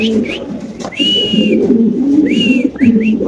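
White pigeons cooing and calling at a pigeon farm, several soft warbling coos and whistle-like notes repeating close by over a steady low murmur of birds.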